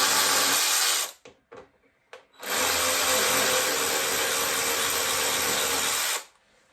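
A power tool spins to loosen a nut on a Ducati Diavel motorcycle: one short burst, a few brief blips, then a long, loud sustained whir that cuts off abruptly, close by and with no talk over it.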